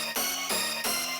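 Bright, buzzy 90s rave stab synth layer from the Rave Generator plugin, three loud chord hits in quick succession with no gaps between them, heard alone.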